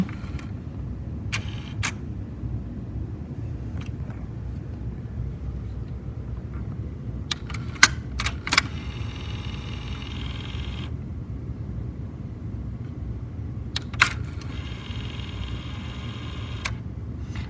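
A Sony TC-WR701ES cassette deck mechanism with an overtight belt runs with a steady low hum, punctuated by irregular clicks and ticks, including a cluster of sharp clicks midway and another later.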